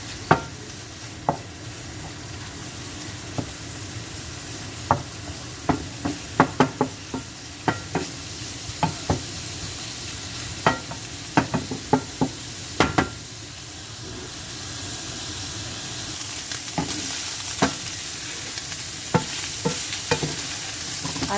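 Boiled meat browns in a sizzling pan under a steady frying hiss, while a utensil scrapes and knocks against the metal in scattered clicks as pieces are turned; no one speaks.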